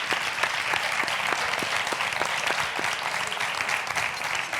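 Steady applause from a small group of people at a restaurant, a dense patter of claps at moderate distance, continuous and without voices.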